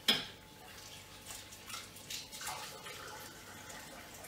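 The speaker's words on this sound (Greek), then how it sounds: "Οπότε τις ξεπλύνω λίγο με νεράκι εδώ." Tap water runs over shrimp being rinsed in a home kitchen, a soft steady splashing with a few louder spatters, fairly quiet and with no talk.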